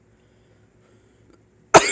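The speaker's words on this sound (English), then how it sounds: "I'm so sorry, I'm coughing." A single sharp cough bursts out loudly after near silence, cut off at the end.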